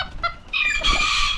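A homestead chicken clucks close by in a short, loud burst, rising from broken clucks into a sustained squawking call.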